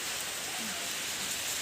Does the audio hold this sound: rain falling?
yes